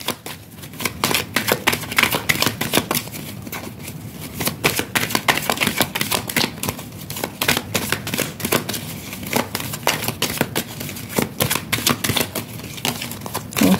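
Tarot cards drawn and handled on a table, a dense run of rapid, crisp flicks and snaps like riffle shuffling, close and fairly loud throughout without talking.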